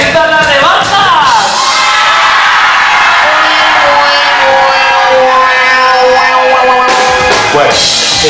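A crowd at a live show lets out a big sustained shout, a dense roar of many voices rising and holding loudly for several seconds, with a few louder individual yells over the mass.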